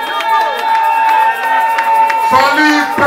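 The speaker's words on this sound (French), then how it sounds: "Vos acclamations, s'il vous plaît." A crowd cheers and acclaims at a customary chief's enthronement ceremony in Congo, with a dense, steady, loud roar of voices, a sustained tone over it, and shouts rising near the end.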